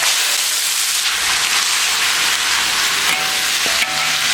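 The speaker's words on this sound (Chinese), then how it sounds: "下锅炒。" Pieces of a large home-raised rooster sizzle loudly in a hot wok with a little oil, a dense close frying hiss with stirring scrapes near the end and no talk.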